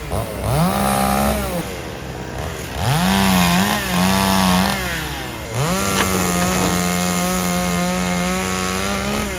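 A chainsaw cuts a dead Korean pine that was killed by pine wilt disease, heard up close and loud. The engine rises into a whine in three long bursts and drops back to a rough idle between cuts.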